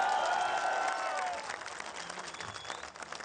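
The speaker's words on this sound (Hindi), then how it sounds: "इन लोगों के लिए ताली।" Audience applause, a dense wash of clapping at moderate volume, with a musical tone fading out at the start and the clapping thinning slightly toward the end.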